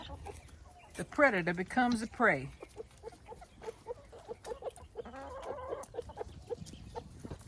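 Several chickens cluck and squawk nearby in a lively burst, then keep up softer clucking while someone speaks briefly.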